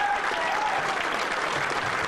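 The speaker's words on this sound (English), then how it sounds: "An energetic crowd greeted Senator Rand Paul in Rochester Monday night." An energetic crowd at a Rand Paul rally in the Rochester Eagles Club claps steadily and loudly, a dense continuous wash of applause throughout with a faint tone underneath and no clear voices.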